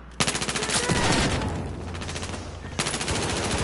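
Rapid bursts of automatic gunfire from an online shooter match, loud and sustained, with a brief lull before another volley and a faint voice underneath.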